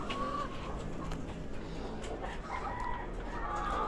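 Chickens in a backyard coop cluck in short, irregular bursts over a steady outdoor background, heard at a modest distance with no talk.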